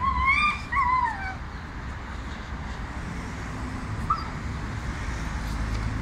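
A dog whimpers and yips in a few high, wavering cries near the start, outdoors during a Tofaş Şahin oil change, with steady road traffic rumbling beneath and a faint later squeak.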